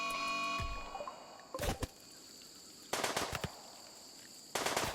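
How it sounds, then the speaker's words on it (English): Gunfire from the video game RimWorld breaks out in sharp bursts, with a few shots early on and then two louder rapid volleys later, over a quiet background of game ambience. "the builders hear gunshots back at the base"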